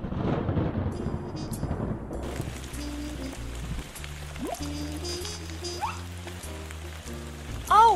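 Steady rain patters and hisses throughout in a cartoon, with a low rumble and some tonal background sounds layered underneath.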